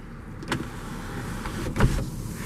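A 2014 Chevrolet Impala Limited LTZ sunroof motor whirs briefly as the roof panel tilts up to vent, a short mechanical hum with a couple of soft clicks in a quiet cabin.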